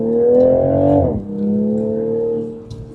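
A 2026 Toyota Supra engine revs up close by, holding a rich, rising tone before dropping sharply and settling into a steadier lower drone that fades toward the end.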